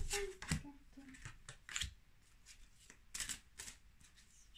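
Tarot cards handled during a card reading, with several soft brushing and snapping card sounds in irregular bursts, close and fairly quiet, some faint noise between.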